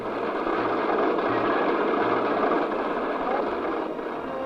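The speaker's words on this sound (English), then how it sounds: "A high-speed printer doing the work of nearly 600 typists writes the letters and checks" A 1968 high-speed printer printing checks runs with a continuous dense mechanical roar and faint low pulsing underneath, steady throughout, without speech.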